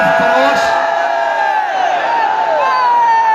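At a Kashmir rally, a crowd chants a slogan loudly in unison, sustained raised voices rising and falling close to the microphone.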